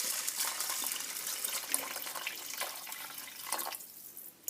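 Water runs steadily into a cooking pot for Moroccan bissara, a close, continuous splashing hiss that stays even for a few seconds and then briefly eases near the end.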